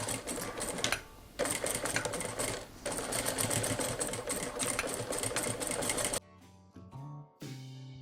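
A sewing machine stitches back-tacks into decorative cushion pleats, running in short bursts of rapid mechanical chatter close by, with brief pauses between runs and a final quick stop-start.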